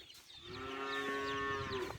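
A single long, low moo from a cow, close and clear, sustained for over a second against a quiet background.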